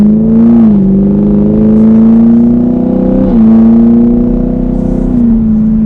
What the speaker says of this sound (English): That V8 definitely sounds good with the exhaust, and we have an intake.